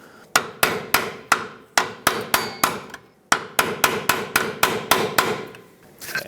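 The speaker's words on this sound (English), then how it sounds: "So looks like I'm gonna have to give it a couple taps with a hammer." A steel hammer strikes a bolt on the front upper control arm of a 2007-2014 Chevrolet Silverado 2500 HD: about fifteen sharp metallic blows, close and loud, in two quick bursts separated by a brief pause, with no talking.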